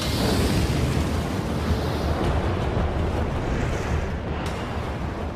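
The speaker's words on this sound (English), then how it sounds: "T-minus 5, 4, 3, 2, engine start, 1, 0." Kepler space telescope rocket lifting off from a Cape Canaveral, Florida launch pad at engine start, a loud, dense, continuous roar of broadband rumble sustained throughout with no voices.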